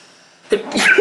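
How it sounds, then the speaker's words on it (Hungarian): A single loud, close sneeze bursts out after a brief quiet lead-in, with a sharp inhale and forceful release. "Tudok ilyen könnyen tüsszögni."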